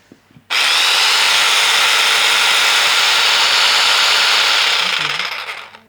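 A jigsaw fitted with a wood-cutting blade runs with no load at its maximum stroke speed, starting after a brief pause and holding a loud, steady high-pitched whine for about five seconds before tapering slightly at the end.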